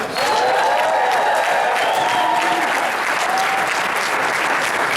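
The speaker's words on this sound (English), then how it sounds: "let's give our leading and ranking member of the Black Caucuses, whether it's legislative and congressional, a round of applause, the Honorable Maxine Waters." At an African American caucus meeting, a crowd breaks into loud, sustained applause that fills the room with dense, steady clapping and a few scattered cheers.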